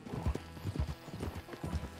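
Horse hooves clip-clopping at a steady trot in Red Dead Redemption 2, a close, rhythmic patter of hoofbeats heard alone with no talk.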